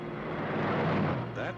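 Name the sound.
1961 Ford Thunderbird car sound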